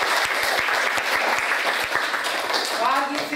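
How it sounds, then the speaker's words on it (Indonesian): Students in a classroom clap together in sustained applause, dense and steady throughout, with a few chirpy voices and a brief tonal sound near the end. "Tetap beri aplaus."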